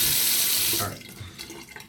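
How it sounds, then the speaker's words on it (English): Running tap water rinses out a shaving bowl in a sink, a loud steady splash that cuts off partway through, leaving quieter dripping and clinking afterward. "I'm gonna rinse out my bowl real quick just to get that stuff out."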